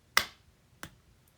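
Two sharp, isolated hand claps about two-thirds of a second apart, crisp and fairly close, with quiet in between and no talking.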